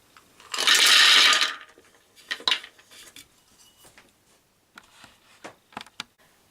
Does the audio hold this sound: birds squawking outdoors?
no